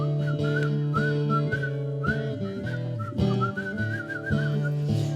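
A person whistles a wavering melody over a sung country-style song with accompaniment, the whistle riding clearly above the music in several phrases.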